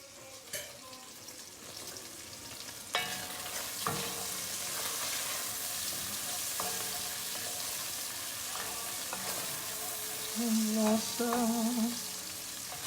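Bacon frying in a pan gives a steady broadband sizzle with occasional louder crackles and pops, close and continuous, with faint tonal clinks of utensils near the end.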